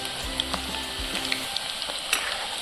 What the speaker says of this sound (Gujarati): જોઈ શકો છો આપણા પોટેટો તળાઈને રેડી થઈ જશે, ગોલ્ડન બ્રાઉનના થઈ જશે